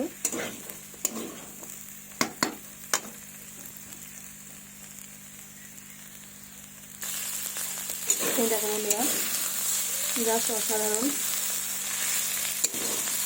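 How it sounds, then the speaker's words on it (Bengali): Cauliflower, carrot, tomato and onion frying with spices in oil give a steady sizzle that turns louder and brighter midway, with scraping stirs and a brief voice speaking over it. "তেলে ভাজা ফুলকপি, গাজর, টমেটো, পেঁয়াজ কুচি মশলা দিয়ে অসাধারণ রেসিপি তৈরি হচ্ছে"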